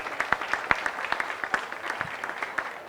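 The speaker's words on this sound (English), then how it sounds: "Give yourself a round of applause." An audience at an outdoor lakeside park concert gives a brief burst of applause, light scattered clapping from a modest crowd lasting a few seconds.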